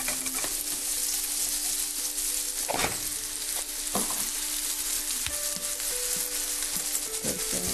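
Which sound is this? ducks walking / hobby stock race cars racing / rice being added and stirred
rice being added and stirred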